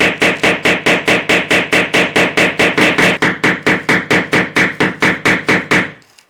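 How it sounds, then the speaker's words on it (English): Hammer blows driving through an old plaster sheet wall, about two dozen sharp, even strikes in steady rhythm, loud and close, ending in a short pause at the end. "You don't want to hammer too hard."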